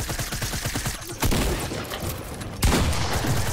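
Rapid gunfire from the Fortnite video game: a burst of quick repeated shots, then loud sharp blasts, dense and close, continuing through the whole stretch.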